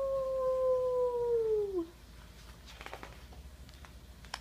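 A wolf cub's howl, one long sustained rising-then-falling tone lasting nearly two seconds, clear and close, followed by quiet rustling outdoors.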